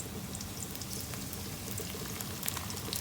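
Eggs sizzle with onion in a pan while frying rice, a steady crackling hiss with scattered pops, fairly soft and with no talking.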